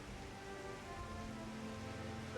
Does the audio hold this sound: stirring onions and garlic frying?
no